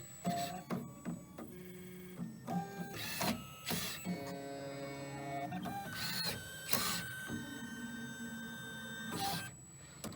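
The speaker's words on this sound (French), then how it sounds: "pouvoir envoyer le verre à la machine derrière de façon à tailler à la forme" Optical lens edging machine shaping a spectacle lens in an optician's workshop, giving steady mechanical whirring with repeated tonal beeps and short motor bursts, close and fairly loud throughout.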